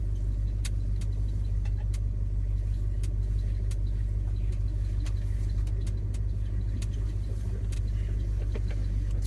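1976 Ford F-150 Ranger engine running with a slight hesitation, a steady deep idle rumble with sharp intermittent ticks and clicks over it, no talk.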